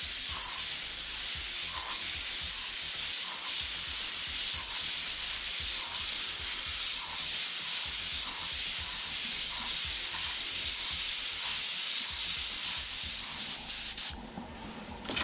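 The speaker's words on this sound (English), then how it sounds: "we're going to hook up our airbrush here and just take this neutral gray base, and we're going to base this all in gray." An airbrush sprays neutral gray base paint in a steady, loud hiss of air with faint repeating pulses, continuing almost unbroken before cutting off near the end.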